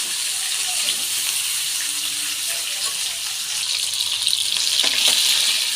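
Bright, hissing sizzle of a vegetarian dish frying in a pan with turmeric, steady and fairly loud, with occasional scraping stirs and a watery, splashy edge.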